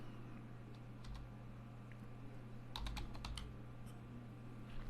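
Quick bursts of keystrokes on a computer keyboard over a steady low hum, with short clusters of clicks and pauses between.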